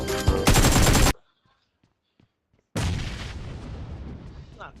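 Heavy gunfire from the mobile game BGMI rattles in loud sustained bursts, cuts out into near silence for over a second, then resumes as a dense, slowly fading barrage.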